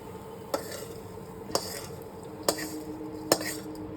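Cooked sugar cane leaves with masoor dal being poured and scraped into a dish, four sharp spoon-on-pan clinks spaced about a second apart over a low, quiet kitchen background.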